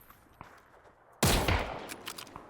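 A sudden loud burst of rapid gunfire in the battle royale game PUBG opens the second half, following quieter footsteps and shuffling, then trails off into scattered shots.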